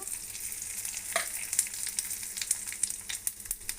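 Dried red chillies and cumin seeds sizzling in hot oil alongside lentils for a tamarind-leaf chutney, a steady crackling fry with a few sharper pops, close and moderately quiet.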